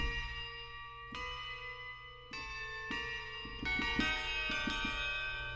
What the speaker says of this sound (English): wood tubular bells that I love, and these are actually from the Contact Factory library